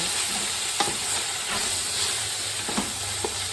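Chicken stirred while frying in a pan makes a steady, moderately loud sizzle with occasional scraping clinks of a utensil against the pan, close and without talk.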